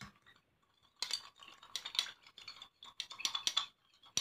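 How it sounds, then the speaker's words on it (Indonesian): Spatula or spoon stirring an alum deodorant solution in a container, quick scraping and light clinking strokes in irregular bursts, close and moderately quiet. "Kemudian kita aduk. Kita menggunakan spatula atau menggunakan sendok biasa"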